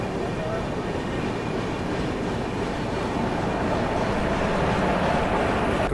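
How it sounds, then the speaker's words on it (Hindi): The Mahabodhi Express rolls into Bhabhua Road railway station, a steady loud rumble of wheels and carriages with faint clatter throughout, close and continuous, with voices faintly in the background. "फ़िलहाल हमारी ट्रेन जो है वो पहुंच रही है भभुआ रोड रेलवे स्टेशन"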